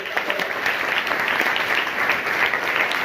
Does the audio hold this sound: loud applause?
yes